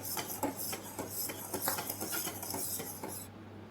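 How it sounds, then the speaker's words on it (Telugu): A spoon stirs flour into melted jaggery in a metal pan for urad dal barfi, giving a steady series of scraping, rubbing strokes against the pan at close range. "ఇలా పిండి మొత్తం వేసి ఉండలు కట్టకుండా బాగా తిప్పాలండి."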